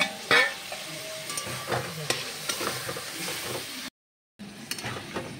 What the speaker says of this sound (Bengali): পেঁয়াজের পর এবার পড়ছে টমেটো।